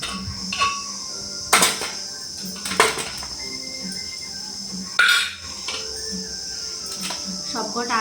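Hot boiled potatoes lifted out of a pot, with sharp metallic clanks and scrapes of a utensil against the pot at irregular intervals over a steady background hiss and chirping, and a voice speaking at times.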